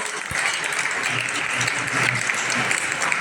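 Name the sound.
loud applause welcoming a guest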